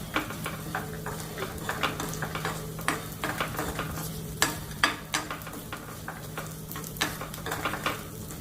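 Steady sizzling of crushed peanuts frying in a pan, with frequent scraping and clinks of a spoon stirring, close up and with no talking.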